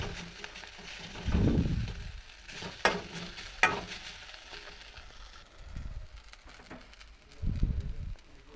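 Bitter gourd with salt, chilli powder and turmeric frying in a pan: soft sizzling with a few sharp scrapes and bursts of stirring, fairly quiet, with no voices.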